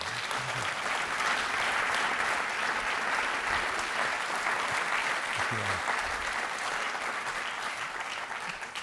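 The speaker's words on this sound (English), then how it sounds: "could I ask for a round of applause for this terrific panel, this final panel?" Sustained applause from a conference audience for a closing panel on CRISPR science, a dense even wash of clapping held at steady loudness for the whole stretch, with no speech over it.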